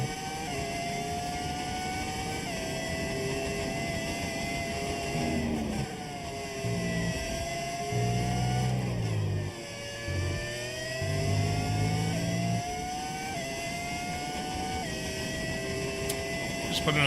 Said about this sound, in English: Why the cars sound different? It's a V10 audio mod.